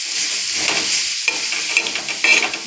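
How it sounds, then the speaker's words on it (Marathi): Onions fry in hot oil and are stirred to brown them, giving a steady loud sizzle with scraping stir strokes and small pops throughout, close up. "चांगला लालसर झाला पाहिजे तोपर्यंत भाजायचं."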